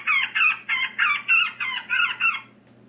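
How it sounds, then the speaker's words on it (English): A squealing woodpecker call from an electronic predator caller repeats as eight rapid, loud, shrill squeals in a steady rhythm, then stops, with a low steady hum underneath. "Squealing woodpecker."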